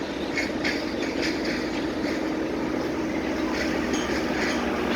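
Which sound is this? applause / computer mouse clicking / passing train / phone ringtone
passing train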